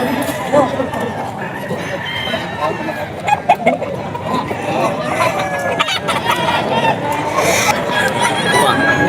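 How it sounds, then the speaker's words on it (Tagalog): Several roosters crow and chickens cluck close by at a gamefowl market in Bocaue, Philippines, with people chattering in Filipino in the background throughout. "Manok ni Boss Good."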